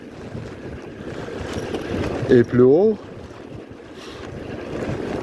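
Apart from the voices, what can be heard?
wind noise while cycling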